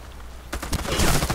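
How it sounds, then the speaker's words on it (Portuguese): A quick burst of sharp pistol gunshots in the game Warface, several cracks in fast succession after a brief quiet moment, loud and close. "o cara começa a dar tiro de pistola quando ele faz barulho"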